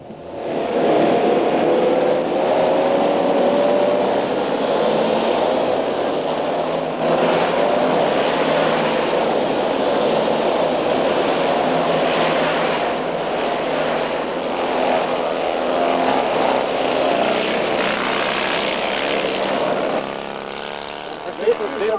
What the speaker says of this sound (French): À Argenton-sur-Creuse, j'ai entendu rugir des moteurs de 2 chevaux.